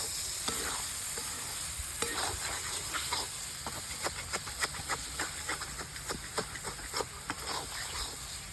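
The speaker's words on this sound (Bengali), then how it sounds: "টমেটোটা ভাজা হয়ে গেছে" Salted tomatoes frying for a masala paneer gravy, a steady sizzle in a pan broken by repeated scraping strokes of a spoon stirring, close and clear with no talking.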